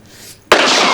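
Stage gunshot in a Marathi TV comedy skit: after a quiet moment, a single loud, sharp burst erupts and its noisy roar carries on to the end.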